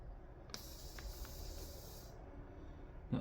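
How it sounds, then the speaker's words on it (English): Air hissing out of a piping bag filled with chocolate, a faint, steady breathy hiss lasting about a second and a half over low background rumble, close and quiet. "hear the air escaping from the bag"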